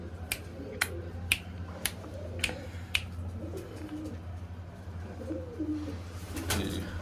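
Pigeons coo quietly in a loft, a low soft murmur punctuated by several sharp, evenly spaced clicks like finger snaps, close and mostly free of talk.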